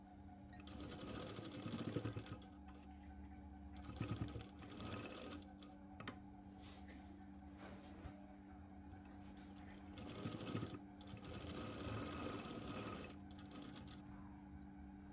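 Sewing machine stitching a Punjabi dress, running in bursts with short pauses between seams, close and steady, with a voice talking intermittently over it.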